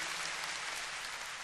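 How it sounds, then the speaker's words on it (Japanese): A concert crowd at a 1986 show applauds in a dense, even wash of clapping that fills the whole stretch, heard from a distance and fairly faint. "大きな拍手でよろしく。"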